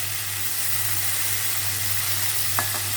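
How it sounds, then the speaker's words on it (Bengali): Fish frying in a pan makes a steady, even sizzle that holds throughout at moderate level over a low hum, with a couple of brief clinks near the end. "আজকে মাছ রান্না করতেছি 10 দিন পরে"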